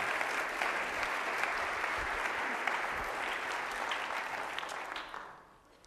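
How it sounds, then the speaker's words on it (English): An audience applauds Kelly during a free CBE interview, steady dense clapping held for about five seconds before it thins and fades out at the end. "Let's give Kelly a round of applause"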